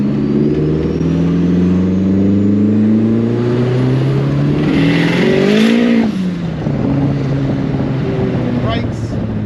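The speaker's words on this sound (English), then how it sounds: "And the car reacts, starts, stops, idles, does everything it needs to do." A Datsun 1600 with a 500hp turbocharged SR20 engine runs loud and close, its engine note rising and falling through a couple of sharp revs over a steady idle drone, with some wind noise.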